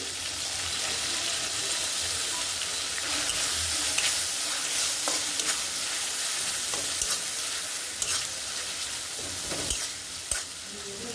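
Boiled dried fish (shutki) fries in hot oil in a pan, a dense, steady sizzle running throughout, with scrapes and taps from stirring scattered over it and no voices.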